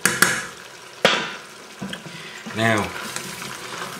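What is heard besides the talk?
chicken liver, thyme and garlic frying in butter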